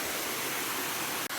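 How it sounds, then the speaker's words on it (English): Fairy Falls waterfall roars in a steady, dense wash of falling water, loud and continuous, briefly cut by a momentary dropout near the end. "So this is the big change to the waterfall now."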